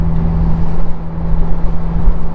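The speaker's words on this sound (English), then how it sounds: "I love that you can hear the engine behind me" Steady, loud low drone of a 2019 BMW Z4 sDrive30i's engine while driving, a continuous rumble with a constant hum and wind noise, no voices.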